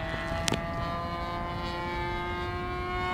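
An Extra 300 model airplane powered by a 28cc gas engine drones steadily in flight, its propeller hum carrying a sustained resonant harmonic whine with a brief louder swell near the start, no voices heard.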